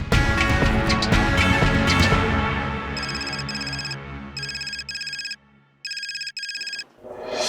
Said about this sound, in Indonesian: Aku coba telepon Pipi